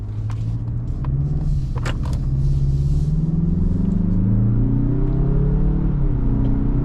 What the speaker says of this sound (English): Off the line, you know, these Mazda turbo engines are just such a treat.